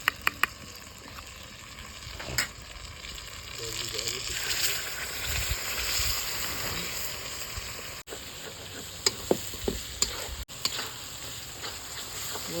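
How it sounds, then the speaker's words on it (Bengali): A spice paste of yogurt, cumin and coriander powder sautés in oil for chicken kosha, giving a hissing sizzle with scraping stirs, some louder clacks and a voice talking briefly. "মশলা মোটামুটি কষানো হয়ে গেছে, ভালোই তেল ছেড়ে গেছে"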